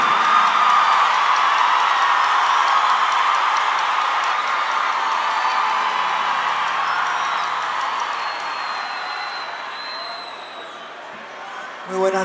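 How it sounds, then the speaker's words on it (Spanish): A concert audience applauds at a live show, a steady broad wash of clapping and crowd noise that slowly fades over several seconds. "El pueblo aplaude."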